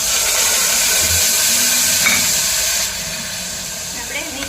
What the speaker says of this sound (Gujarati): હવે આપણે ડુંગળીની ગ્રેવી નાખી દઈશું